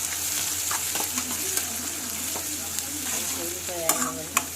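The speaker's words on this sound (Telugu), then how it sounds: "ముక్కలన్నీ మంచిగా వేగనివ్వండి." Vegetable pieces dusted with turmeric sizzle in a pan while being stirred, a continuous frying hiss broken by scraping and light clinks, with a couple of sharper knocks near the end.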